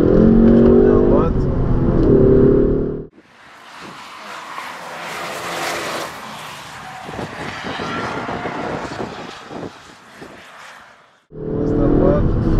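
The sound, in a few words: Ford Focus ST EcoBoost car accelerating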